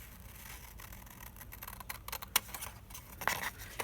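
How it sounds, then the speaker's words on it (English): Scissors cutting paper for a DIY journal postcard template, a run of soft snips and crisp blade clicks close by, uneven in rhythm, with no talking. "And don't click all the way to the end of your scissors like I just did."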